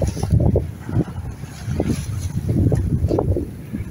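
A sailboat on a solo ocean passage between the Marquesas and the Tuamotus, sailing with two reefs at about five knots, gives off a steady low wash of water against the hull mixed with gusty wind noise, close and continuous.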